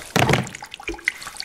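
Water runs and splashes across a studio floor between camera tripods, starting with a loud gushing burst that thins into scattered drips and trickles, close by with no talk.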